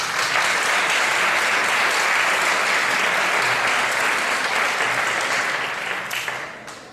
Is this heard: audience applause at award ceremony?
yes